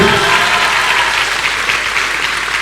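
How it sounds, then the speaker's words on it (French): An audience at a masterclass in Dakar applauds, a loud, dense, steady wash of clapping from many hands that carries on through the whole stretch. "Ce n'est pas grave si vous vous levez pour l'applaudir."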